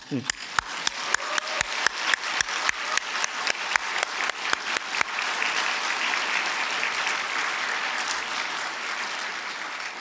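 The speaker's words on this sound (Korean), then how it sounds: "10초 동안 큰 박수로 한번" A Korean church congregation at a Sunday afternoon service gives a ten-second round of applause, starting with sharp, rhythmic unison claps at a steady beat that then dissolve into a loud, continuous wash of clapping.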